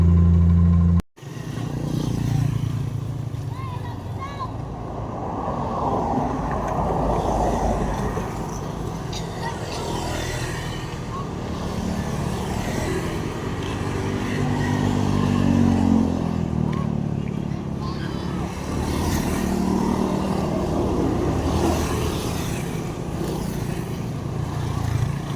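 Honda Click 125 scooter cruising at a steady pace on a long-distance road trip, a continuous mid-loud engine drone with wind rush, steady throughout and rising slightly in pitch near the middle.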